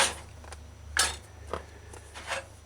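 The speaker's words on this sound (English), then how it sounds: "So stir in properly." Hominy corn porridge with coconut milk being stirred in a pot, a spoon scraping and clinking against the metal in a few soft, irregular strokes over a low stove hum.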